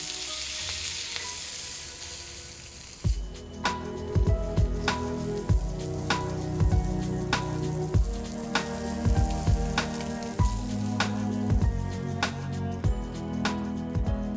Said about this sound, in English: while the chops are still sizzling